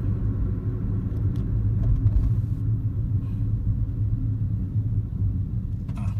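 A Toyota Vios automatic with a modified exhaust idles and revs, a steady deep low rumble holding loud and close throughout with no speech.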